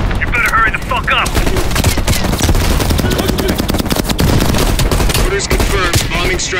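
Heavy machine gun fire in the Black Ops Cold War campaign rattles in rapid, dense bursts, loud and close, mixed with other battle noise and shouted voices.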